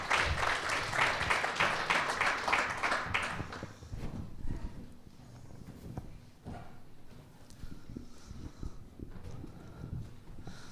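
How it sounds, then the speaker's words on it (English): Audience applause at a Gaelic football draw event in Ireland, a dense clapping wash for about four seconds that then thins into scattered, lighter claps and low room noise. "Give them a round of applause."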